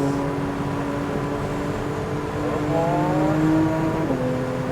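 A Porsche 911 on the COTA track gives a steady engine drone under light throttle, with the tone rising gently and then shifting as the revs change near the end.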